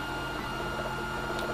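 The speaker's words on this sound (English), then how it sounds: "that's the 3D printer printing away the wide angle lens for this Samsung camera." A 3D printer prints a wide-angle lens adapter for a Samsung HMX-QF20 camcorder, giving a steady, close whir of motors and fan with faint stepping tones and no voices.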